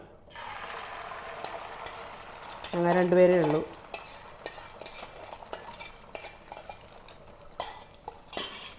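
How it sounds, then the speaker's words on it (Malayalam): A duck egg frying in a pan, a soft continuous sizzle with scattered utensil clicks and scrapes, briefly interrupted by a short tonal sound, while a voice speaks a few words. "ഒരു മുട്ട വറുത്തെടുക്കാം"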